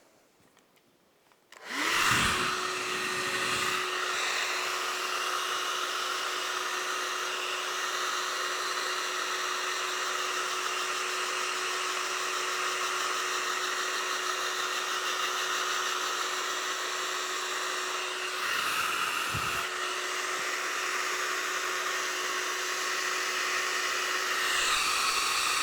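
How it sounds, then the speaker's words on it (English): A hairdryer drying a watercolour painting switches on and blows with a steady high whine and rushing air, running continuously close by and briefly dipping once near the end. "I'm just going to give it a quick hit with the hairdryer."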